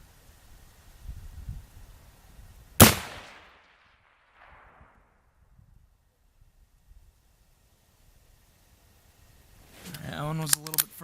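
A single sharp rifle gunshot cracks at a shooting range, loud and close, with a short decaying echo trailing off into near silence before a voice begins at the end.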